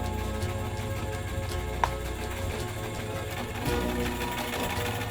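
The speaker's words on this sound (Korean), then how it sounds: "안악들이 옷을 지을 땐 마을 공용인 이 재봉틀을 사용한다고 합니다." A shared village sewing machine runs steadily in a community hall, its rapid mechanical ticking continuous and fairly loud, with a brief sharp click partway through.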